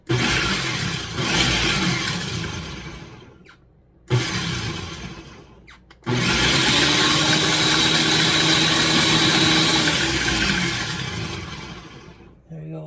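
A blender pulsing to crack peppercorns for a prime-rib-style roast beef loin, three loud whirring bursts with short pauses between, the last running longest with a rattling grind, then cutting off.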